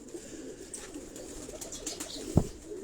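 Pigeons of a flying breed cooing in a rooftop cage in Karachi's Defence area, soft continuous low murmuring under faint background noise, with one sharper flutter or thump near the end.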